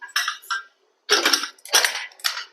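A lid clatters onto a pressure cooker holding chicken curry in a home kitchen, giving a few sharp metallic clinks and scrapes in quick bursts, close and moderately loud with no talk.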